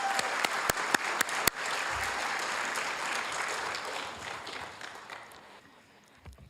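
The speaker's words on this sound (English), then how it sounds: "Please give Lonnie a round of applause." Audience applause for an honoree at a volunteer awards ceremony, with a few sharp, close claps at the start giving way to sustained, moderate clapping that gradually tapers off.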